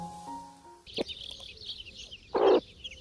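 Chicks and a broody hen clucking around a backyard coop, a few short calls and chirps with a louder burst near the end, close by over quiet outdoor background.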